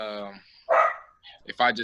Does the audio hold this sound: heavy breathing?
no